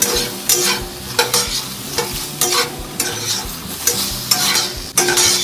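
Honey garlic prawns fry and sizzle in a pan over a low flame, with repeated stirring and scraping strokes every second or so cutting through the steady loud hiss; no talking.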